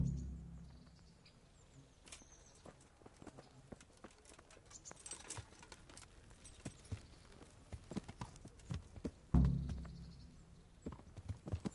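Horse hooves clip-clop steadily while riding in Kingdom Come Deliverance, a soft, continuous patter of hoofbeats with a louder thud of movement near the end.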